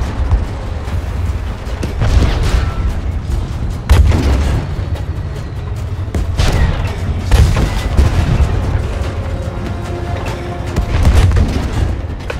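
Dense gunfire and artillery in Battlefield V rumble continuously, with sharp shots and deep explosions layered over a loud, low roar.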